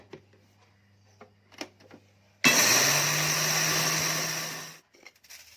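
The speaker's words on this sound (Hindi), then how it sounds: "ये मेरे पास ये आधा पाव सौंफ है, ये इसको ग्राइंडर में डालते हैं" An electric kitchen grinder whirs loudly at a steady high pitch for about two seconds while grinding fennel seeds, preceded by faint clicks and taps and followed by quiet handling.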